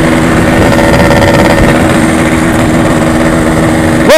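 Yamaha RX-King motorcycle engine idling steadily up close, a loud, continuous two-stroke burble with harmonic hum, ending in a brief rev at the end.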